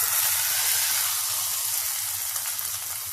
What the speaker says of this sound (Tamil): தாளிச்சு கொட்டுறத பாருங்க